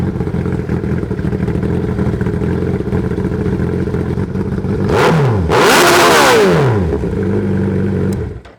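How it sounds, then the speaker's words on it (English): A Gen 2 Suzuki Hayabusa four-cylinder motorcycle idles with a steady, loud engine drone, then is revved hard twice, the pitch sweeping sharply up and falling back before settling to idle and cutting off. "Love the way this bike sounds, that 4-cylinder"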